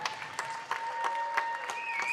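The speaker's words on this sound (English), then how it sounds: "let's give them a round of applause if we can" A gym crowd at a high school wrestling senior night applauds the seniors, with scattered distinct claps forming steady, moderately faint clapping and a faint tone running underneath.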